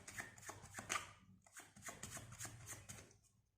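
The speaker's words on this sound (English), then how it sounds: "So let's shuffle the cards just like this." A deck of playing cards is shuffled by hand in a quiet room, giving a series of soft, quick riffling and slapping bursts in an uneven rhythm that fades toward the end.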